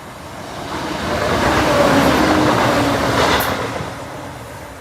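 Train 1B85 from Lincoln Central to London King's Cross passes Oak Farm Level Crossing, a broad rumble of wheels on rails that swells toward the middle and fades away.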